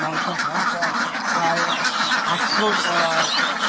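Hundreds of ducks on a duck farm quacking together in a loud, continuous overlapping chorus, close by, with a voice talking underneath.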